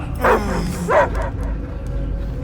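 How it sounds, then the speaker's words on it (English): A dog barks twice in Marvel's Guardians of the Galaxy video game, sharp yipping barks standing out over a low rumbling game soundtrack. "I hear only barking."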